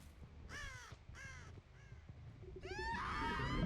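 Crow cawing in a video game, three harsh caws in a row followed by a longer, louder, rougher call, heard near and clear over a low background rumble.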